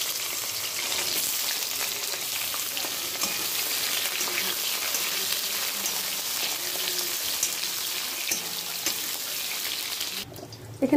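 Pieces of sola kochu, giant taro, sizzling in a hot pan: a dense, even crackle like heavy rain that holds steady for the whole stretch, with faint stirring and a sudden clatter near the end.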